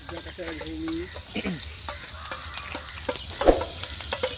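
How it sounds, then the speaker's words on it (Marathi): Onion and garlic frying in a pan while oysters are cooked outdoors, with a steady sizzle and occasional stirring scrapes; a short rising voice or bird-like call comes early, and a brief clatter near the end. "कांदा लसूण फ्राय फक्त कांदा आणि लसूण"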